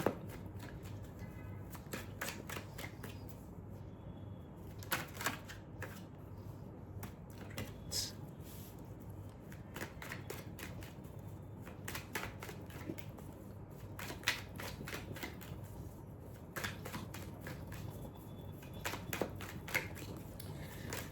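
Tarot cards being shuffled for a reading, a faint, close run of soft riffling and flicking taps that keeps going in irregular bursts with no speech.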